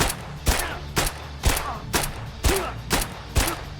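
Gunfire from a 9x19mm pistol-caliber weapon loaded with Killer ammo in the video game Escape From Tarkov, about seven loud single shots spaced roughly half a second apart, sharp and close.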